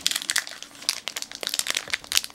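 A trading card booster pack's foil wrapper crinkles and crackles as it is torn open, with close, busy bursts of crumpling that continue throughout.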